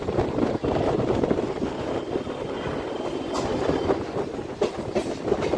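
The Dankuni–Sealdah local train runs along the rails near Dakshineswar, a continuous loud rumble with rhythmic wheel clatter and occasional squeals heard from aboard.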